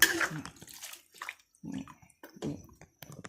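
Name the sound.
pouring more water into the cooking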